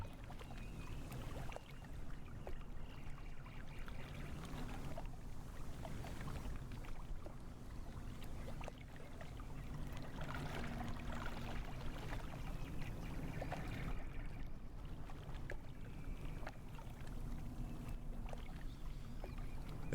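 Steady water sloshing and lapping against a hull in a general aviation flight simulator game, a continuous moderate wash with faint low rumble and no talk.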